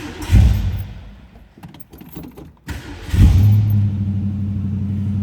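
A 1965 Ford Mustang convertible with a 289 V8 cranks with a jangle of keys, catches with a loud burst, then settles into a steady, deep rumbling high idle close by.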